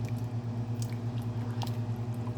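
Someone chews a mouthful of five bean chili close up, soft wet rhythmic mastication with faint squishing, over a steady low electrical hum.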